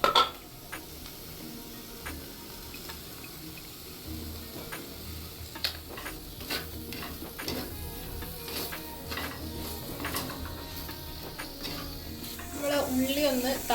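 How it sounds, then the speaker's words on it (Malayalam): Small onions are stirred with salt in a pan, giving irregular light scraping clicks and ticks against a faint sizzle, with a voice murmuring in the background. "അപ്പോൾ നമ്മൾ ചെറിയ ഉള്ളി ഇതാക്കണം, ചട്ടിയിലിട്ടിട്ട് ഇളക്കിയെടുക്കണം കേട്ടോ."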